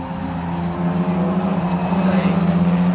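Race cars at Silverstone heading into Luffield corner, engines droning loudly and steadily with a slight rise in pitch as they pass, under a commentator's voice.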